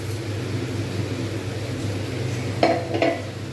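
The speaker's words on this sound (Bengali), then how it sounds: "ছাতুটা দিয়েই কিন্তু আমাকে নাড়তে হবে" A spoon stirs roasted rice flour in a pan while rice laddoos are made, giving two brief scraping strokes near the end over a steady low background hum.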